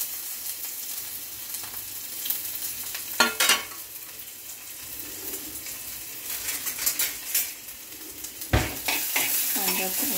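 Chopped onion frying in hot oil for a kolumbi (prawn) masala, stirred with a spoon: a steady close sizzle with sharp scraping clicks and bursts of stirring.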